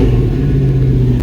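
A carburetor-equipped car engine idling high after adjustment, a loud close steady low rumble with a faint exhaust rattle, no talking.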